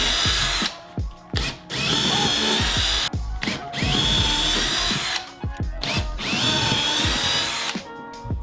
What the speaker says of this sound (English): I'm gonna pre-drill these holes using a 3/16 brad point drill bit